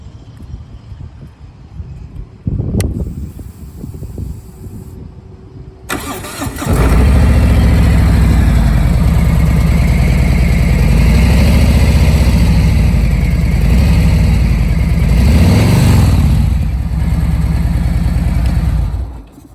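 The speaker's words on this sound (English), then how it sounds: "And this one has the 107 Milwaukee 8 engine." An Indian motorcycle with a 107 Milwaukee 8 engine and Vance & Hines exhaust fires up after a few faint clicks, then settles into a loud, steady, deep idle with a slight blip of throttle near the end.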